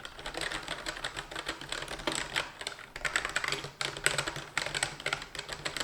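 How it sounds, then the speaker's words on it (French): Fast, continuous typing on a cheap gaming keyboard, its keys clattering in dense, uneven bursts close to the microphone, with brief pauses between runs of keystrokes. "Concernant le son du clavier, instant ASMR."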